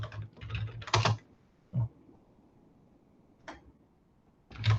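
Typing on a computer keyboard: a short flurry of clicks, then a few single keystrokes separated by quiet gaps, close by.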